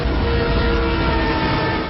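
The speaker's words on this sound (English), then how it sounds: "the train's coming down the tracks" Loud, steady rumble of a train rolling along the tracks, a dense continuous roar with a faint sustained tone running through it.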